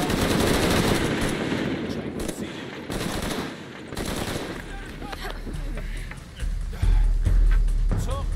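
Gunfire in the video game Shadow of the Tomb Raider comes as dense, continuous shooting mixed with game effects and a deep rumble that grows louder toward the end, with voices shouting over it.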